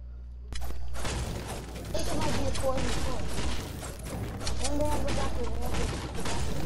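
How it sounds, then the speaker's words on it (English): Gunfire in a video game, bursts of shots and sharp impacts crackling over a loud continuous game background with voices talking throughout. "Why the shooting?"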